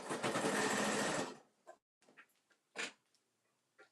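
A home sewing machine stitches a seam at a presser-foot width in a dense, steady whir for just over a second, followed by a few short faint clicks and taps, with no talking.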